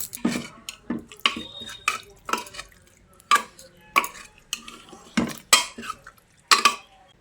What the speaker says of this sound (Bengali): ঘি দিয়ে মিশিয়ে নিচ্ছি।